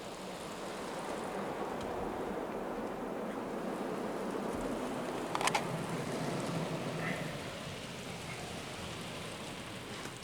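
Rinse jets of an Istobal M'Nex 22 automatic car wash spray water across a car, a steady close hiss and patter like heavy rain that stays even throughout, with a brief knock midway.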